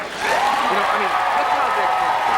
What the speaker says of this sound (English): With the way they're clapping